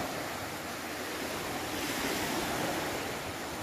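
Low, unhurried surf rolls onto the eastern beach of Pulau Panjang, West Sumatra, at midday, forming a steady, even hiss of breaking water close by, with light wind buffeting and no one talking.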